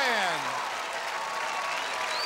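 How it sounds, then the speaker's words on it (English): A studio crowd on American Gladiators applauds competitors Allie and Dorann, a fairly faint wash of clapping with a quick tonal sweep at the start, steady to the end. "Ladies and gentlemen, how about a nice round of applause for Allie and Dorann"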